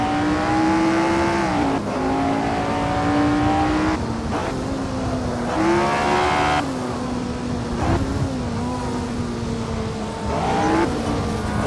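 1967 Tasman Series race cars lapping Teretonga in Assetto Corsa: a loud, continuous engine howl rising and dropping through gear changes, with other cars roaring close by throughout.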